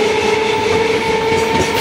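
A suburban passenger train on the Dakshineswar to Sealdah line runs near Dum Dum Junction, a loud steady rumble and rattle heard from on board, with a sustained tonal whine on top and no talking.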